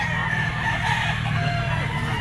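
Kelso bloodline yellow-legged rooster at a poultry market crowing once in a loud, close, drawn-out call amid market background noise.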